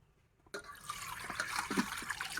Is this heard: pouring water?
yes